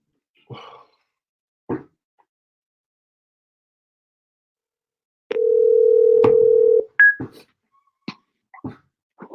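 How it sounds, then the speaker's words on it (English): A steady telephone dial tone hums loudly for about a second and a half, followed by a short high dialing beep and scattered clicks and breathy noises in near silence. "I'm ready to call this Queen sister on the phone right here"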